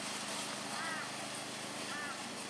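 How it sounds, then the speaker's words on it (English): A lawn mower cuts the front lawn at Belyando Crossing roadhouse, its steady engine drone running unbroken at moderate volume throughout. "mowing the lawn"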